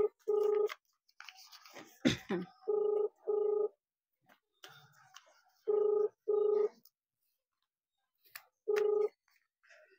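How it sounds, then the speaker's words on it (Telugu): A mobile phone call rings out with a ringback tone in steady paired pulses, repeating three times with short gaps, alongside faint rustling and handling noise. "రింగ్ అవుతుంది."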